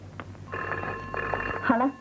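An old-style telephone bell rings in a sustained burst of about a second and a half, clear and close, after a brief earlier chirp, with a voice speaking near the end.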